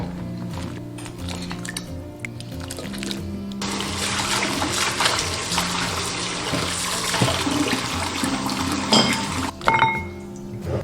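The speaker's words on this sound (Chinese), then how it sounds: "捞起来清洗干净" Blanched pork ribs for a four-herb soup are rinsed under running tap water, with a continuous gush and splash and scattered clinks of the bowl and pot, close by, with no talking.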